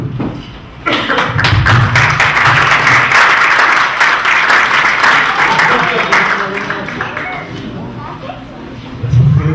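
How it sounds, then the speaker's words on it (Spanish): An academic colloquium audience breaks into loud, sustained applause for a speaker, dense clapping that gradually tapers off, with some voices mixed in. "una vez más estaría un aplauso al doctor Vázquez"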